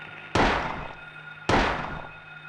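Two gunshots in the video game Silent Hill 2, sharp loud blasts about a second apart, each decaying into a brief echoing tail over a faint steady hum.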